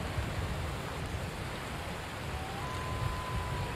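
Steady rain in Skyrim hisses as broad, even noise outdoors, continuous and moderately loud, with no talk over it.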